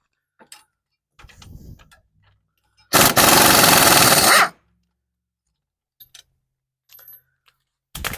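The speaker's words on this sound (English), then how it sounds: "impact wrench to kind of speed up the process" An impact wrench loosens a bolt in one loud burst of rapid hammering that lasts about a second and a half, set among quiet clicks and handling knocks from the socket and tools.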